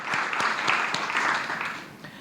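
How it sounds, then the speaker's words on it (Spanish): An audience at a presentation event in Biobío, Chile, gives a round of thankful applause, close and dense clapping with distinct individual claps, tapering off near the end. "Para cada uno de ellos el aplauso también, por favor, de agradecimiento"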